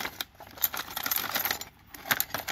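Metal buckles, nails and small bits being rummaged and handled, producing irregular bursts of jangling and clinking close by, with brief quieter pauses between handfuls and no talking.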